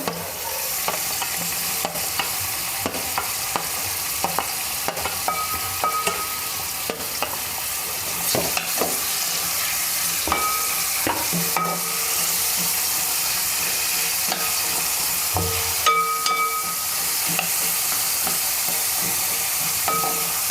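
Onions, three of them, fry with a steady loud sizzle in a pan while a spoon stirs and scrapes through them, with intermittent clicks and clatters over the constant hiss and no talking.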